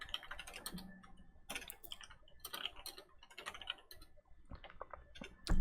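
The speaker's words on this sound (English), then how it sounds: "I'm typing to Carolina." Rapid clicking of typing on a computer keyboard comes in uneven bursts and pauses, close but fairly quiet, with no talk over it.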